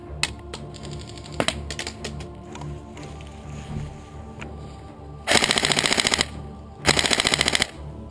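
Airsoft guns, including a Marui M4 Sopmod EBB, fire BBs during an outdoor skirmish, with scattered single pops followed by two close, rapid full-auto bursts.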